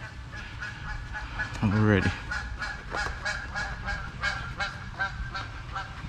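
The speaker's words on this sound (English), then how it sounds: "Got geese is flying by" Geese honking as they fly past outdoors, a short burst of loud layered honks around the middle, with fainter calls scattered after it over steady background noise and a brief spoken word.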